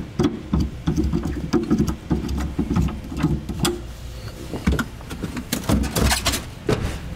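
Spare tire being pulled from the rear cargo area of a 2014 vehicle, with several sharp knocks, thumps and clunks of the wheel and cargo floor parts being handled up close, over a low steady hum.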